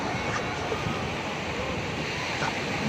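Strong sea waves surge along a beach at Infanta, Quezon, as a continuous loud roar of surf mixed with wind buffeting the microphone.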